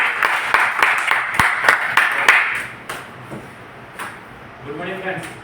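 A small audience at a training session claps in a short burst of separate, sharp hand claps that thin out and stop, followed by a person starting to speak.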